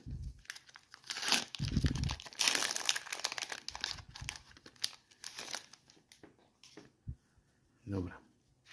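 Plastic shrink wrap on a Pokémon Elite Trainer Box is slit and torn open by hand in gloves, with crinkling bursts and tearing rustles. Several pauses break it up, and a voice murmurs in between.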